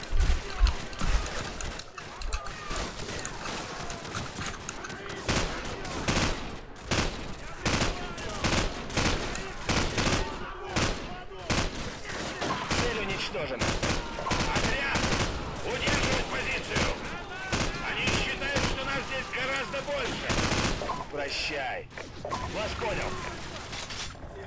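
Rapid bursts of gunfire crackle nearly nonstop in a Call of Duty 4: Modern Warfare battle, dense and loud, with scattered voices and shouts underneath.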